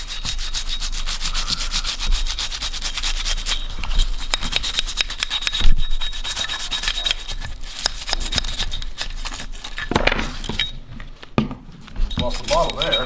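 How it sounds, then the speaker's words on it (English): Someone scrapes and rubs residue off the parts of an H&K VP9 pistol during cleaning in a working gun shop. The scraping is close, repetitive and gritty, coming in quick strokes with brief pauses. "scrape this all up."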